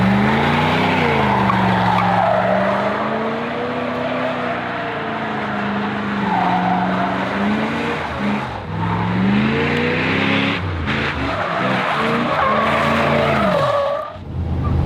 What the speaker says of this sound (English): So might as well go do a burn on it real quick.